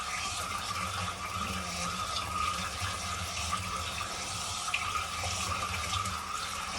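Water runs steadily from a tap while something is washed at a sink, a continuous hiss and splash with small clinks, close and moderately loud, no voices.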